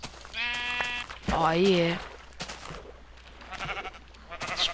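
Sheep bleat in Minecraft Beta, several wavering nasal bleats close up, one long and loud, with a player's brief voice and game sounds between them.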